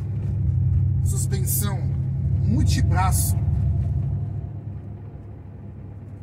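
A 2006 Porsche Cayenne S 4.5 V8 runs with a deep, steady low rumble while someone talks over it; the engine noise eases slightly toward the end.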